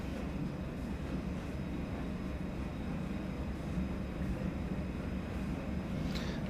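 A 184-ton diesel freight locomotive idles through a snowy gap on the Sand Patch Grade in the Train Sim World 2 video game, giving a steady, unbroken low engine rumble with no talk.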